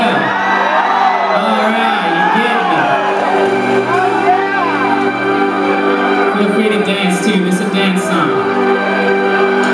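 Concert crowd at Webster Hall screaming, whooping and cheering loudly and continuously, a dense roar of many voices filling the room.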